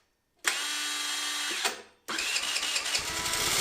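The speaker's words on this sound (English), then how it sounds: "It sounds like the starter is turning" A 50cc Chinese scooter's starter motor whirs and cranks in two bursts, cutting off briefly before spinning up again, close and loud; the starter sometimes spins without turning the engine.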